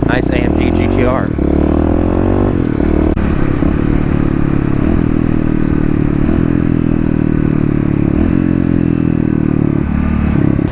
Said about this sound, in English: I'm pulling in the clutch, it doesn't die, and now I'm just doing the brake-in